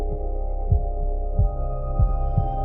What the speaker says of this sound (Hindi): रूहानी का दिल तेज धड़कने लगा।